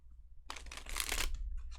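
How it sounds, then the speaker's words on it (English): Tarot cards are shuffled in a quick riffle, a crisp rushing flutter lasting about a second, close and fairly quiet with no talking. "one more proper shuffle"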